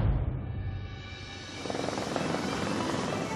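Helicopter rotor and engine noise, a loud continuous roar with a steady beating texture that grows fuller partway through, heard alone.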